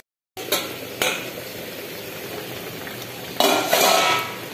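A lid is set over a simmering pot of thin mango chutney, with two light metal clinks early on, a steady background hiss, and then two louder clattering knocks as the lid settles.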